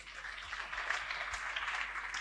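Audience clapping at a preaching gathering, a quiet steady patter of many hands spread evenly across the room with no voices over it.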